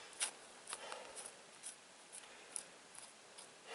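A knife slices through the center of an animal carcass during skinning and deboning, faint close scraping and slicing strokes in short irregular bursts against a quiet background.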